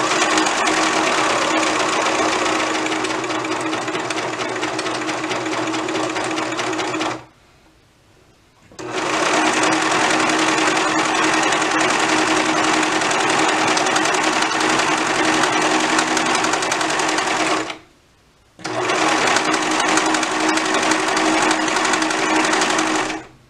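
Sewing machine stitching a dress yoke to front and back bodices, running loud and steady in long bursts with two brief pauses.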